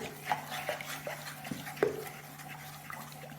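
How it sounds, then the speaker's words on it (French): Rice flour mochi batter with coconut is stirred in a bowl, giving soft, repeated scraping and squelching strokes at close range, faint and rhythmic over a low background hum. "On mélange, on mélange, on mélange pour ne pas qu'il y ait des grumeaux."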